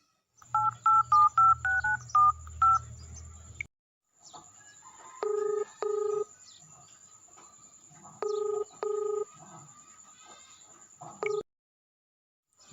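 A phone call is dialed with a rapid string of keypad beeps, then the ringback tone sounds in repeated paired bursts with gaps between them, going unanswered until it cuts off.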